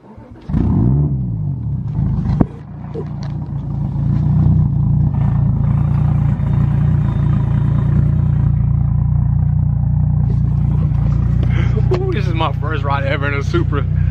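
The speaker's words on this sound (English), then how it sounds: "we got to catch a cold start." A first-production-year 600hp Toyota Supra cold-starts with a sharp crank and catch, then settles into a loud, steady, rumbling idle close by, with a few revs near the end.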